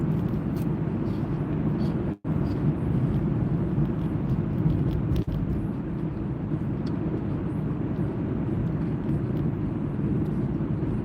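A car driving on the road, heard from inside as a steady, loud low rumble of engine and road noise, with one brief dropout.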